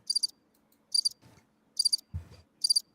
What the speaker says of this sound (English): can you put some crickets for the record?